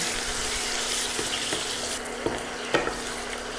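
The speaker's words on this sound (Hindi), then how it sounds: "अब डाल के हम इसको 1 से 2 मिनट तक भून लेंगे।" Minced meat keema sizzles in a hot pan as it is stirred and fried, a steady, close frying hiss broken by a few sharp scraping knocks of the spoon against the pan.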